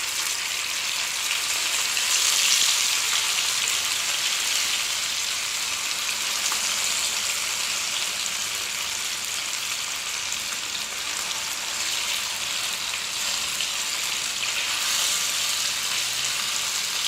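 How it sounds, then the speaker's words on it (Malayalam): Pieces of fish fry in hot oil with a continuous bright crackling sizzle, steady and close for the whole stretch, with no talking. "ഇനി ഇതിലേക്ക് നമുക്ക് ആ ഫിഷിൻ്റെ പീസസ് ചേർത്ത് കൊടുക്കാം."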